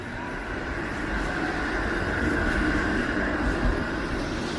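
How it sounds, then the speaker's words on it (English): The 509 Harbourfront streetcar rolls past on a rainy Toronto lakefront street, a steady broadband rumble and hiss that swells slightly as it nears and then holds, with no talking. "There's the 509 Harbourfront streetcar."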